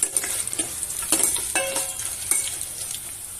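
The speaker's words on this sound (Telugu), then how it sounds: "ఒకసారి బాగా కలుపుతాను." Tempering for Andhra-style pappu charu sizzles in a pan with onions, curry leaves and a pinch of asafoetida, stirred with a few close scraping strokes over a steady bright frying hiss.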